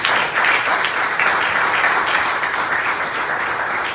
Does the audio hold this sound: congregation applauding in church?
yes